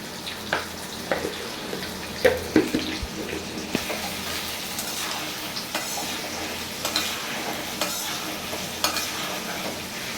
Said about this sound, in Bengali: আলুগুলো একটু বাদামি কালার করব